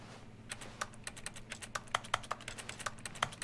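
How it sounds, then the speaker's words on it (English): Keyboard typing clicks from The Stanley Parable: Ultra Deluxe play as a steady, fairly quiet run of crisp keystrokes with irregular spacing, alone over a low background hum. "Why do I press E and it's making keyboard noises?"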